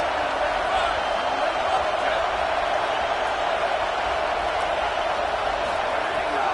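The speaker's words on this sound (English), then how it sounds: "this crowd getting behind its defense" Stadium crowd in a college football video game, a dense and continuous roar of cheering that stays loud and even throughout, with no clear talk on top.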